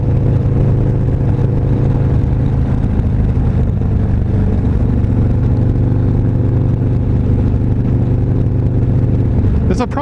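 A Harley motorcycle's engine holds a steady, loud, low drone while being ridden, with wind roar throughout and a rider talking over it.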